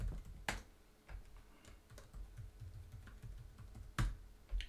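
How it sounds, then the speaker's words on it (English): Keys clatter on a computer keyboard while a password is typed, with irregular soft taps and a few sharper louder strikes, close and alone. "Have we tried typing in a password?"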